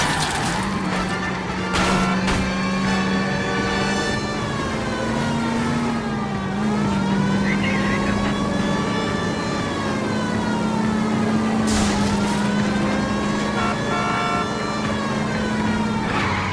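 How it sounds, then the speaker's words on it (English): Police siren wailing steadily over a revving car engine during a chase of a stolen green Kaiser Fraser in L.A. Noire, loud and continuous, with the siren rising and falling and occasional crashing impacts. "in pursuit of a stolen green Kaiser Fraser from 6 West 2nd Street"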